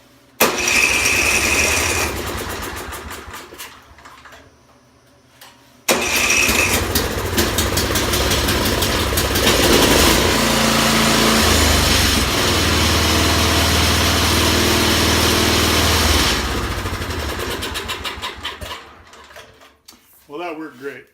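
A snow blower engine with a salvaged starter cranks with a short whirring burst, sputters, then catches and runs loud and steady at idle for about ten seconds before slowing and cutting out.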